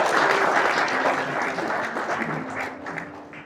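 Church congregation clapping during a Christmas-season service, dense sustained applause filling the space, loud at first and slowly tapering.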